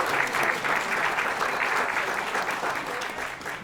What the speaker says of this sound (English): Let's give Jeremy a big round of applause.